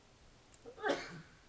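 A person sneezes once in a history lecture room, a short, fairly quiet burst with room background.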